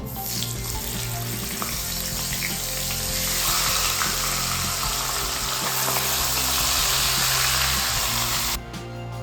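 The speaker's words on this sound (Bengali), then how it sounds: "মাছের মাথাগুলো তেলের মধ্যে দিয়ে দেবো" Katla fish heads coated in chili powder frying in hot oil for Bengali muri ghonto give a steady, loud, dense sizzle that builds slightly midway and drops off abruptly near the end.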